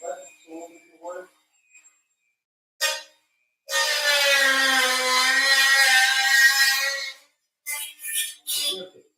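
A power sander or grinder whirs loudly and steadily for several seconds, bracketed by brief clatter and short bursts of tool noise.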